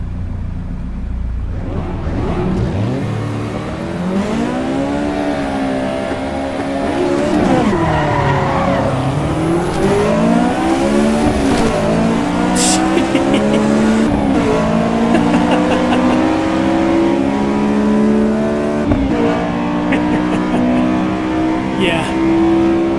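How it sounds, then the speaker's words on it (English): A Honda S2000 in Assetto Corsa EVO cranks and fires up, then revs repeatedly with the engine note climbing and falling, loud and close, while someone talks over it now and then. "Car started."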